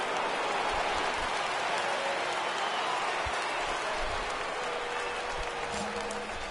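Steady rain at a ballpark in MLB The Show 19 video game, a dense continuous hiss with a low crowd murmur underneath, holding at an even level throughout.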